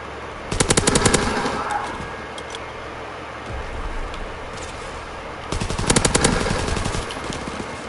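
Rapid automatic gunfire in a shooter video game comes in two loud, dense bursts separated by a quieter stretch with a few scattered shots.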